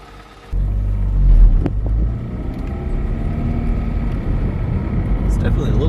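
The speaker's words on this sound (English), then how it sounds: "now let's do a test drive." A Honda Civic pulls away on a test drive after a lower engine mount replacement, its engine and road noise rising into a steady low rumble that continues throughout.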